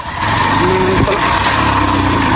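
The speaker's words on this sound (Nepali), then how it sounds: "बाइक के भयो यार सर्भिस नगराउने होला 2 घरमा पनि तान्दैन यार" A motorbike engine strains on an uphill road, failing to pull in second gear and droning loud and close with a steady, labouring tone.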